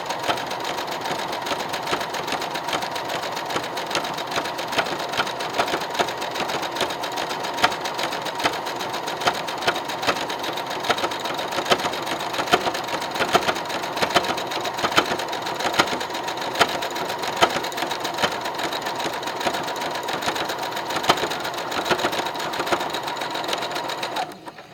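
A sewing machine stitches fabric strips together for a rectangle rug, running loudly and continuously at a steady rapid rhythm for the whole stretch.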